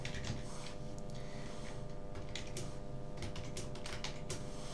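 Quick, steady keystrokes clatter on a computer keyboard while C# code is written for a Unity game project, close and fairly quiet over a faint background hum, with no talking.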